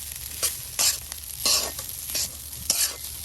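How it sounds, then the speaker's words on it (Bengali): Leftover rice stir-fried in oil in a pan, with about five loud, scraping stirring bursts over a steady hiss of sizzling and no talking. "ভাতগুলি একদম তেলে ভাজা ভাজা করে নেওয়া হচ্ছে।"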